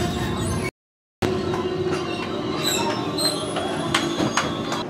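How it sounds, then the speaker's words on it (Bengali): The Purushottam Express, a New Delhi to Puri train, rolls into Hazaribagh Road station in Jharkhand with a steady rumble of wheels on rails, scattered clicks and faint squeals. The sound is close and continuous, broken by a short silent gap near the start. "আমাদের ট্রেন এই মুহূর্তে এসে পৌঁছালো তার যাত্রাপথে ঝাড়খণ্ড রাজ্যের দ্বিতীয় স্টেশন হাজারিবাগ রোডে"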